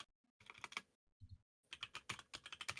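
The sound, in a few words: typing on a computer keyboard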